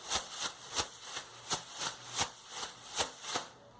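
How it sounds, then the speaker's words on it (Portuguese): A plastic grocery bag is shaken in a steady rhythm, giving about ten evenly spaced crisp rustling swishes, close and fairly soft, with no talk. "Olha só que legal que faz o barulho da sacola, ó."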